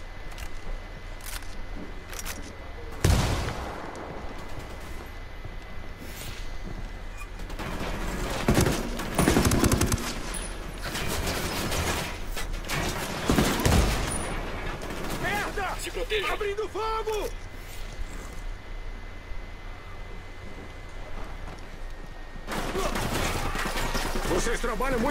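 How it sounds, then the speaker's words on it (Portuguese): Gunfire in the Ghost Recon Wildlands video game, scattered sharp shots and bursts of varying loudness over a steady background bed, with people talking at times. "Disparando."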